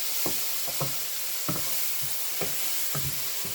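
Pasta gets stirred in a sizzling pan, the spoon scraping in a steady rhythm of about eight distinct strokes over a constant, fairly loud frying hiss.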